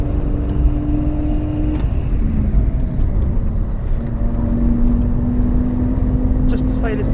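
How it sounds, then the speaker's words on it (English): A BMW is driven hard on the road, its engine holding a loud, steady, strained drone with brief shifts in pitch. Voices can be heard under the engine noise. "He is driving the pants off this car."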